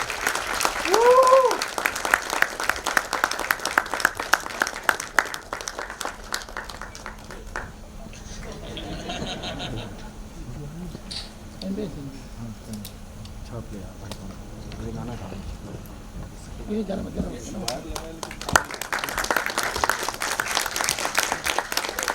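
Audience at a Hindi film release event keeps clapping, loud dense applause at the start and end with a quieter stretch in the middle where voices talk over scattered claps.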